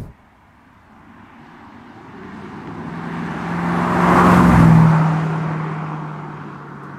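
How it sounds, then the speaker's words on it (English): A 2005 Jaguar XKR supercharged V8 fitted with a Miltech exhaust cruises at about 40 mph in an urban area, giving a steady low burble that swells toward the middle of the stretch and then eases off slightly. "fit a Miltech exhaust, which gives you just the right amount of V8 burble, the right amount for a Jag"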